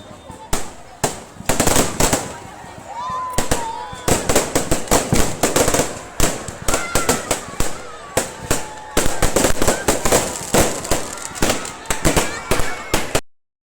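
Dussehra fireworks burst during Ravan Dahan in a rapid, loud barrage of sharp cracks and pops that runs almost without pause, with faint crowd voices underneath.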